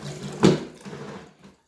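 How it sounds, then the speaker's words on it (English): A microfiber mop is dunked and rinsed in a water bucket, giving one loud splash followed by a short, fading slosh of water, close by with no voices. "Wet the mop again."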